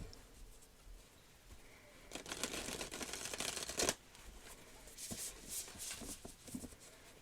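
A deck of cards is riffled and shuffled close by, with a long rapid flutter followed by shorter bursts of papery snapping.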